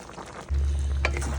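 Chicken cubes drop into a pot of chicken curry with potatoes, setting off a sudden steady sizzle partway through, with a faint clink of the pot near the end.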